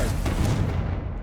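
Confringo blasting spell explosion in the Hogwarts Legacy video game, a loud, dense rumbling blast that stays heavy and sustained through its short length.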